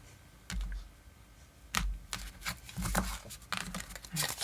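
Soft, irregular riffling and slapping of tarot cards being shuffled close by, in quick uneven bursts with brief pauses.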